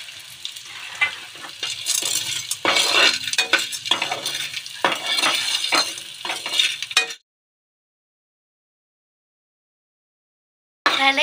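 Edible gum (gond) frying in ghee for methi laddoos, a loud close sizzle with crackling pops and repeated scraping, clinking strokes of a spoon against the pan, then a sudden stretch of silence before the sound briefly returns.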